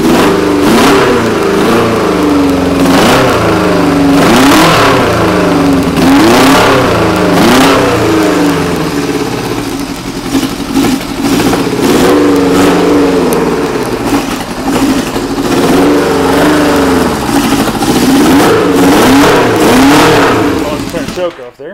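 Old stunt motorcycle engine revving loudly up close, with repeated rising and falling throttle blips over a rough idle that continues throughout.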